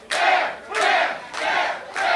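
Pro wrestling crowd chanting for Bear Bronson, a loud arena chant in four rhythmic surges, each swell of massed voices breaking briefly before the next.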